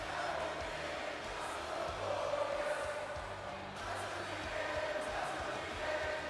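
A wrestling arena crowd singing along to Robert Roode's entrance music, heard as a dense, steady roar of many voices filling the space at a constant level.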